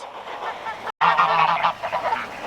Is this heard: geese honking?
yes